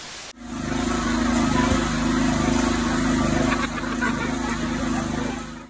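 A lawn mower engine runs steadily and loudly close by, a continuous droning buzz that starts abruptly and holds with slight wavering throughout.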